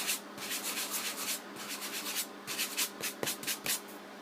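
Light sandpaper strokes rasp across a chalkboard-finish card in a quick, uneven series of soft scratchy rubs with brief pauses, close and fairly quiet.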